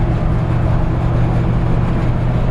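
A 1964 Chevrolet C10 truck cruising along, a steady low engine and road drone filling the cabin continuously without change.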